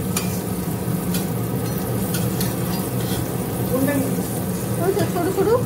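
Nimki, fried flour snacks, sizzle steadily in hot oil throughout, a dense continuous crackle with occasional stirring, while people talk over it.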